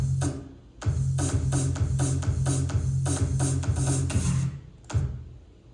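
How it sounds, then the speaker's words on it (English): An EDM drum sample triggered on a DDJ-FLX10 DJ controller plays a steady, punchy pattern of booming kicks and crisp hits, loud and repetitive, with a brief pause before a final hit. "So I have this EDM drum sample right here,"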